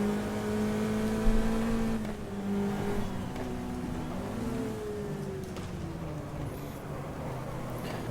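An Alfa Romeo laps a race track, its engine droning steadily with rising and falling pitch as it accelerates and shifts, heard from inside the car as a continuous close roar.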